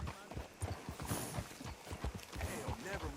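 Horse hooves clip-clop in a steady walking rhythm in the Red Dead Redemption 2 video game, close and fairly clear, with speech running over the steps.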